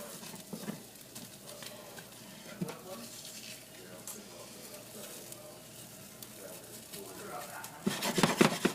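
A spatula scrapes the edges of an omelet down in a pan over a constant sizzle, with repeated rubbing strokes that grow louder and busier near the end.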